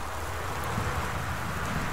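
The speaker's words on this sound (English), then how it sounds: "You can hear outside, it's still raining and thundering, it's quite eerie." Steady rain falls outside a house in the Gone Home video game, a soft, dense hiss with a low rumble of distant thunder underneath, quiet and continuous throughout.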